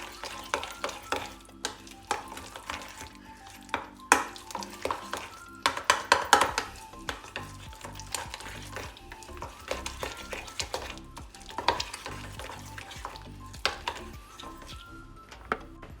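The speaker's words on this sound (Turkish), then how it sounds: "yaklaşık 3-4 yemek kaşığı kaliteli bir zeytinyağı katarak karıştırmaya devam ediyoruz" Teratur meze mixture is stirred with olive oil in a bowl, a close series of irregular wet scrapes and soft clicks of a spoon, with louder bursts midway.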